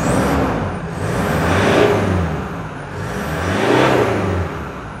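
A 1KD common-rail diesel engine swapped into a converted car is revved twice, each blip swelling and falling away in a smooth rising whir, close and fairly loud with no talking.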